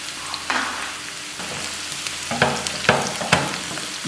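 Steady sizzling and crackling of chopped onion and garlic frying in oil in a pan for moong dal, with occasional louder hisses and spatters as the food is stirred, close and fairly quiet.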